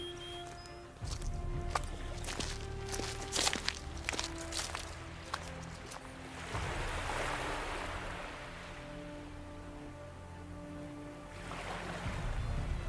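Waves wash against the shore of Okishima Island in a rolling surge, with intermittent clicking and knocking sounds and a steady low rumble underneath, at moderate loudness and without voices.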